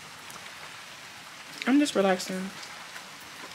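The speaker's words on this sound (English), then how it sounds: "I'm enjoying the rain." Steady rain falls outdoors as a soft, continuous hiss, with a person speaking briefly partway through.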